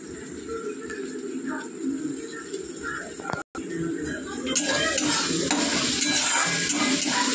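Whole spices fry in a pan with a steady sizzle and occasional stirring scrapes, growing louder and brighter halfway through, while faint birdsong sounds in the background.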